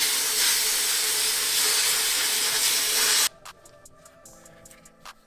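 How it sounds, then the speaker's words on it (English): Sandblasting a motorcycle brake caliper for an RM250 rebuild: a loud, continuous blasting hiss runs for about three seconds, then cuts off abruptly, leaving a quiet room with a few light knocks. "all we got left is to sandblast it"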